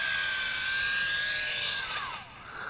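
A WLToys Tarantula X6 quadcopter drone whines steadily overhead at close range, its high motor pitch dropping and fading as it comes in to land.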